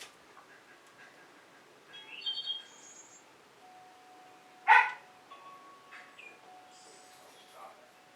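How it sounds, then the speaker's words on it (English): Dogs bark at dinner time, one sharp loud bark standing out among a few fainter distant barks, with birds chirping softly in a quiet background. "It's doggy dinner time, in case you wonder why the dogs are barking."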